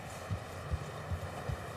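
Horse hooves clip-clop at a steady walking pace along a snowy trail in Red Dead Redemption 2, four soft low thuds spaced evenly over a faint constant background hum.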